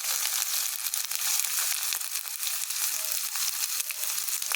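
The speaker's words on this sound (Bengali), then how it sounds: "টমেটোটা একটু ভেজে নিয়েছি।" Tomato sizzling and frying in a hot pan for a vegetarian fish-style dish, a steady bright crackle with scattered pops, close and fairly loud, no talking.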